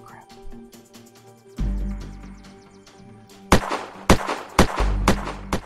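Video game gunfire: a few light taps early on, then a run of loud, sharp shots about half a second apart in the last two seconds, set against a steady game soundtrack with a tonal hum.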